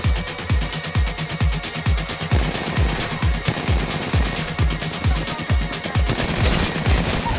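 A player's gun firing in a video game, a rapid, steady stream of close, punchy automatic shots continuing throughout with only brief pauses.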